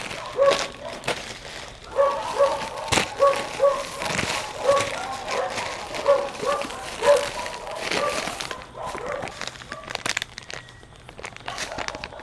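A dog barks in a quick series of sharp yips, with crinkling and rustling close by.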